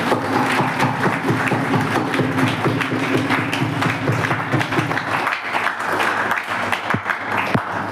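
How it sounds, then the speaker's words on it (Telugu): A church congregation claps along steadily during Sunday worship, a dense continuous patter of many hands filling the room with faint voices mixed in. "చప్పట్లు కొట్టండి."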